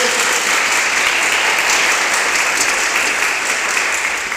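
A Catholic congregation gives loud, sustained applause after a Scripture reading at a Portuguese-language Mass, a dense unbroken roar of clapping from start to finish.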